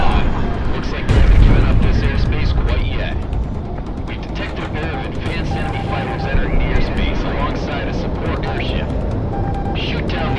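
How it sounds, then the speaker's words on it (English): A fighter jet fires a missile in the combat flight game Project Wingman, a heavy booming whoosh that rolls into a sustained roar of jet engine and explosive rumble, loud and close. "Launch missile."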